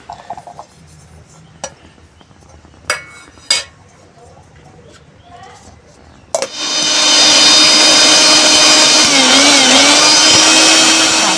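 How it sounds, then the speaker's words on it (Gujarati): A kitchen grinder crushing ginger for ginger sweets starts after a few light clinks and taps, then runs loud and steady with a high whirring roar to the end. "હવે આપણે આદુને ક્રશ કરીશું."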